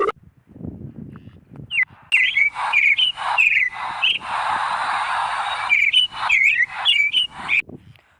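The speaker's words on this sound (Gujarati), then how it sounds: "તો આ છે જુદા જુદા પક્ષીઓના અવાજ" Bird calls play from a patch on a mobile Octapad: clear, repeated chirps and whistled tweets in short bursts, with a sustained hiss in the middle, loud and close with no talk.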